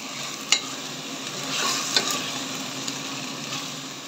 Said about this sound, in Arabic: زيد حط المغرفة هذه تاع الطماطم المصبرة